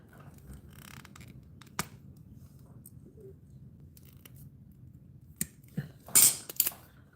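Cutters snip through the brake light wire on a Honda Shadow Phantom bobber, with a few sharp clicks and then a cluster of louder crisp cuts near the end over a quiet background.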